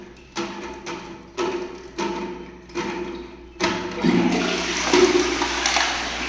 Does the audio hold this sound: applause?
no